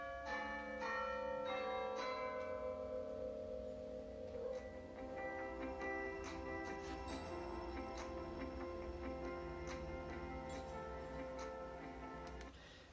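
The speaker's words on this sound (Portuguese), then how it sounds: "depois que toca a vinheta, que é o sino ali, o relógio" A radio-style audio jingle rings out with bright bell tones and a steady clock tick-tock, the bell strikes fading over a soft musical bed, fairly quiet and without talk.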